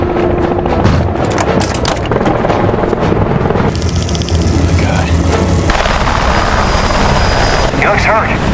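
A helicopter flies overhead, a loud, dense, continuous rotor and engine rumble, mixed with heavy thuds and other noise throughout.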